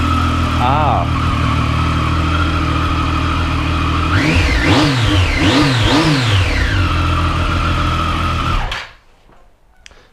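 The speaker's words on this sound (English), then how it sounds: "is renowned for its engine and the sound. It is, of course, the Triumph Street Triple" A Triumph Street Triple inline three-cylinder motorcycle idles with a steady throb, then blips its throttle in several quick revs before the engine cuts off; a voice briefly speaks.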